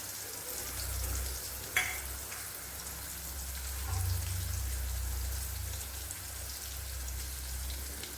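Sliced onions sizzle in hot oil for sambhar, a steady crackling fry that runs throughout, with a brief clink of stirring partway through and no talking.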